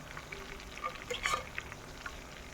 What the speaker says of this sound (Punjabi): ਜਿਹੜੇ ਹੁਣ ਆਪਾਂ ਅੱਗੇ ਪਾਉਣੇ ਆ ਉਹ ਥੋੜਾ ਸਾਈਜ਼ ਵੱਡਾ ਆ ਉਹ ਅਲੱਗ ਤੋਂ ਫਰਾਈ ਹੋ ਜਾਣਗੇ